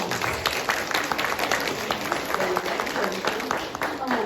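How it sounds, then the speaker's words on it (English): A crowd claps in sustained applause while a voice talks over it, at a middle school presentation. "Can we give her another round of applause, please?"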